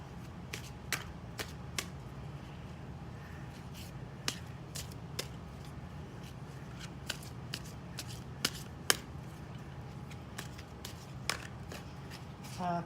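Tarot cards being shuffled by hand for a chakra reading, a quiet steady run of soft riffling with sharp irregular snaps and flicks spread across the whole stretch, close and alone over faint room hum.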